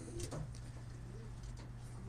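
Soft cooing of older flying pigeons sounds faintly inside an enclosed loft, over a low, steady background hum.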